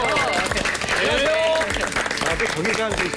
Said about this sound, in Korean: 먼저 이분들 따뜻한 환영의 박수